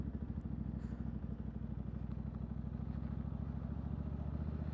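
A motorcycle rolls along at low speed with the clutch feathered in and out, a steady low, throbbing engine putter heard close and fairly even throughout.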